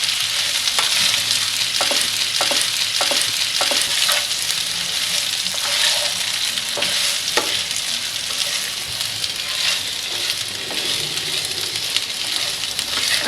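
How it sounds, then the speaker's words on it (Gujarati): Dal muthiya is stirred in a sizzling spiced tempering over a low gas flame, giving a steady, close, loud frying hiss broken by repeated scraping stir strokes, with no talking. "ગેસની લો ફ્લેમ પર બધું મિક્સ કરી લઈશું"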